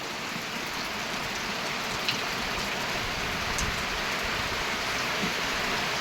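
Steady rain falls on a rural farmstead where goats and cows graze, a continuous even hiss of drops close by with no voices.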